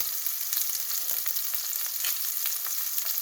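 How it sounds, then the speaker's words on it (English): Steak searing in a pan for a Japanese steak bowl, a continuous loud hiss of sizzling fat, close and steady with no voices. "we're just gonna let that just sit there and sear"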